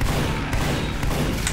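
Rapid, continuous gunfire from Team Fortress 2 on the 2fort map crackles loudly and close, a dense stream of shots with no voices over it.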